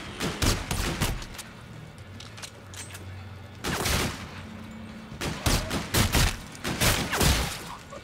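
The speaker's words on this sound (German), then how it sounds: "jetzt sollten wir, glaube ich, anfangen mal zu schießen" Gunfire in Call of Duty: Infinite Warfare Zombies comes in rapid bursts of sharp, loud shots, clustered volleys separated by brief lulls with a low hum beneath, no talking.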